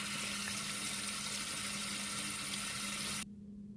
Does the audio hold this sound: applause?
no